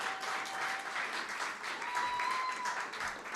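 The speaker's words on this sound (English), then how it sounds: "Can I get another round of applause for that?" An audience at a Black History Month career event claps in a steady, moderately distant round of applause that holds evenly throughout.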